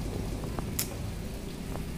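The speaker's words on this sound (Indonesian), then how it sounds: "Hujan." Rain falls steadily outdoors at a house, a constant even hiss with a few louder drips and taps standing out now and then, and no voices.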